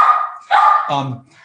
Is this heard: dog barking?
yes